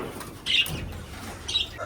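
Pigeons kept in a coop alongside sparrows give soft coos and short flutters of wings, two quick bursts close by over a low background hum.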